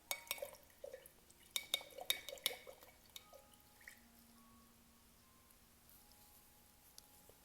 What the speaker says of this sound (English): I think I need to wash my brush out.